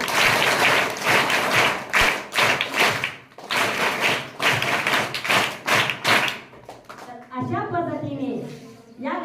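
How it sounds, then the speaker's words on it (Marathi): Students at a tribal-day quiz in an ashram school clap together to congratulate the winning Satpuda group, bursts of loud, close rhythmic applause broken by short pauses, with a voice speaking near the end. "सातपुडा गटाचं आपण टाळ्या वाजून अभिनंदन करूया"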